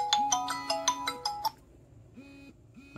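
An S10 Ultra 2 smartwatch plays its incoming-call ringtone, a bright electronic melody of quick repeated tones lasting about a second and a half. After it stops, a few faint soft beeps follow.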